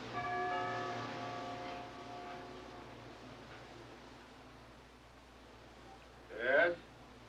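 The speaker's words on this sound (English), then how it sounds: "No, I'll ring the bell." A doorbell rings at the front door of a building in a movie scene, its chime tones sounding clearly at the start and then fading over a low background hum.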